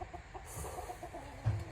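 Chickens cluck at a farm, several short soft clucks spread across the moment, quiet and mid-distance with light background noise.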